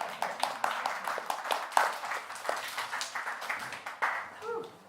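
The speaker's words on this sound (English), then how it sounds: "applause." An audience at an evening discussion on art, money and fringe theatre breaks into applause: scattered, uneven clapping of moderate loudness, with faint voices now and then.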